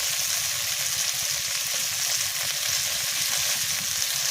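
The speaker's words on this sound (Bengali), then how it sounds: "মাছের তেলে মাছ ভাজা" Fish sizzles steadily while frying in fish oil, a close, continuous crackle and hiss with no break and no voices.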